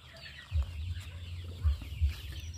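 Penned chickens clucking close by, low throaty clucks in a few separate bursts over steady farmyard ambience, no speech.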